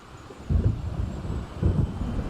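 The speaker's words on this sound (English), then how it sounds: "It seems there's a storm coming." Approaching thunderstorm in the game Alan Wake, heard as two deep rumbling swells of distant thunder over a steady windy backdrop near the sea.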